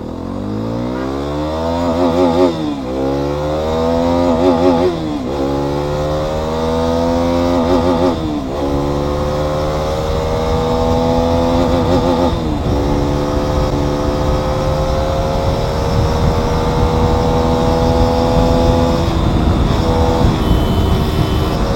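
A Hero Xpulse 210 motorcycle accelerates hard on a top-speed run, its engine rising in pitch through repeated gear changes with short dips between, then holding a loud, steady high-speed drone with wind rush.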